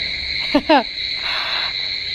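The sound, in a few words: crickets chirping at night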